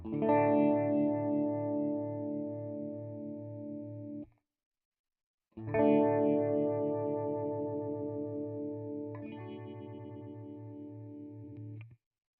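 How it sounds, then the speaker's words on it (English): Electric guitar chords ring out with a shimmering chorus effect, two sustained strums separated by a brief silence, clean and close. "So right now I have it set on chorus."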